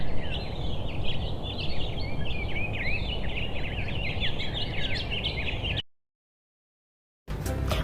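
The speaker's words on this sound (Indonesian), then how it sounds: "yang barusan adalah suara burung" Bird calls played as a sound-guessing game in a primary school lesson, with rapid, busy chirping and tweeting over a rough background rush that cuts to silence near the end, then resumes briefly.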